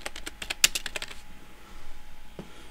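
Quick burst of computer keyboard typing as an item name is entered in a game, about a dozen crisp keystrokes in the first second, then quiet with one soft knock near the end.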